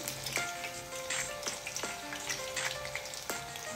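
Potato snack balls deep frying in hot oil, a steady bright sizzle with bubbling crackle and a few sharp spoon clinks against the pan, close and alone without voices.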